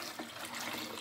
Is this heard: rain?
no